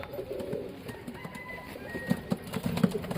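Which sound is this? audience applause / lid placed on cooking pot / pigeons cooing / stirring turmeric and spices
pigeons cooing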